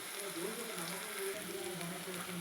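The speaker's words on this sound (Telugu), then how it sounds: "ఆనియన్స్ అయితే వేగుతున్నాయి ఫ్రెండ్స్ ఇవి అయితే వేగుతున్నాయి" Onions and green chillies fry in a pan with a soft, continuous sizzle and light crackle, low in level and without speech.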